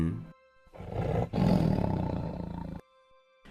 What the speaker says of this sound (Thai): เสียงแบบนี้มันเป็นเสียงของเสือ เป็นเสียงของเสือโคร่งอย่างแน่นอนไม่มีผิด